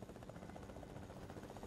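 Helicopter in the video game Fortnite, a faint, continuous rotor thrum with a rapid, even chopping pulse, steady and unbroken over a brief stretch with no voices.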